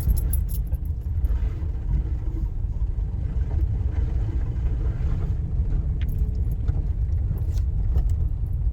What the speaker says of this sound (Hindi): सामने से गाड़ी आ रही है, वो हमें रास्ता दे रही है।